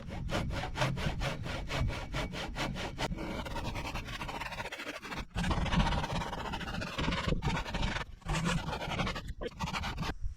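Rhythmic back-and-forth strokes of a handsaw cutting through a wooden post, fast at first, then rougher and more irregular with brief pauses as the cut progresses.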